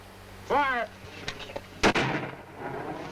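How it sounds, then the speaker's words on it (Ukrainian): A sharp, heavy mortar blast in a game rings out with a booming echo, following a brief burst of voice-like tones; a low rumble trails off afterward. "Міномет."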